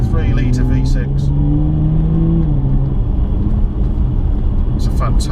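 Jaguar XE S with a 3-litre V6 engine, a loud engine drone rising in pitch under acceleration then easing, heard from inside the car with someone talking over it.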